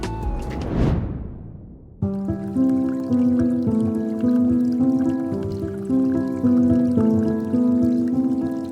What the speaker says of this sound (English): I'm super happy with how this waterfall has turned out